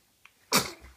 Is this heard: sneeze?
yes